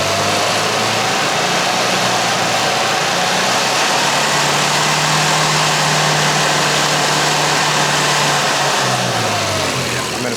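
A classic Mini's engine running loud and close, holding a steady mid-range drone with a slight rise and fall in pitch as the revs are brought up slowly through the range.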